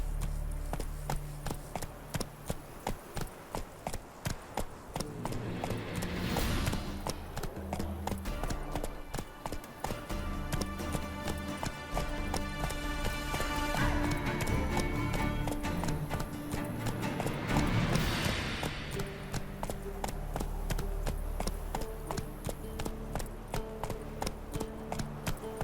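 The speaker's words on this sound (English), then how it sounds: "Run, Roach." A horse gallops in The Witcher 3, hooves pounding in a fast, rhythmic clip-clop throughout, with swelling wind-like rushes and a faint musical score beneath.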